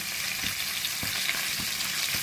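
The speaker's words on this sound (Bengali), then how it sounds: "একটু মাছগুলোকে লাল লাল করে ভেজে নেব" Fish fry in hot oil in a pan, giving a steady, dense sizzle with a few soft low knocks as the pieces shift or are turned. No one speaks.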